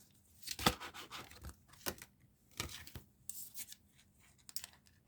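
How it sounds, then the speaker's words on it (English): Large tarot cards are shuffled by hand in a series of short, crisp papery riffles and rustles, each burst separated by brief pauses, close and quiet. "These cards are very large, and I'm trying to hold them to shuffle them."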